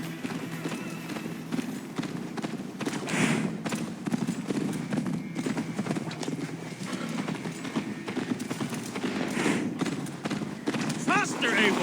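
Horse hooves pounding at a gallop in Assassin's Creed Valhalla during a race, a continuous rapid clatter under game dialogue and ambient noise.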